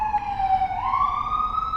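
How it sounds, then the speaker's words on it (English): An emergency vehicle siren wails loudly and close, its tone holding and then rising as it passes, with no talk over it. "how many sirens are going to pass me by in one video?"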